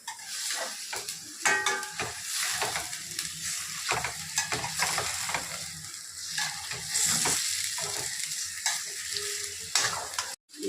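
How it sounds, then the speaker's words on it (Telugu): Chicken pieces hit hot fried masala in a pan and sizzle loudly and continuously, with frequent stirring clatters and scrapes on top, close up, for about ten seconds with no speech. "ఇదిగోండి మసాలా వేగింది ఈ చికెన్ వేసేస్తాను"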